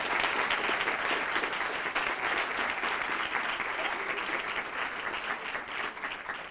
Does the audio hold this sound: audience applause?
yes